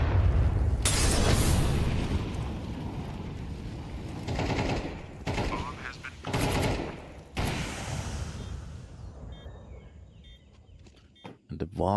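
Rapid gunfire and bursts crackle through a professional Counter-Strike-style esports match, with dense overlapping shots and booming impacts filling the mix under ongoing commentary.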